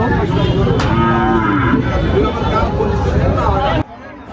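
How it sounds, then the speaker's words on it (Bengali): Cattle lowing at the crowded Tepakhola cattle market in Faridpur, Bangladesh, with cows brought in for Qurbani sale; several loud, drawn-out moos rise over steady crowd babble and nearby talk, then the scene cuts off abruptly. "এই দেখেন গাভী গরু চলে আসছে কুরবানির জন্য"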